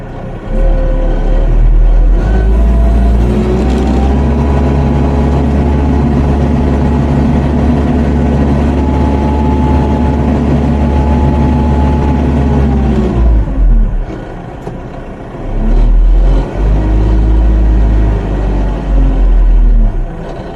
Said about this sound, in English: Get the tractor in the position.